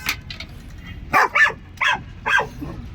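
A dog barks four times in short, loud, spaced bursts, close by, after a few faint yips at the start.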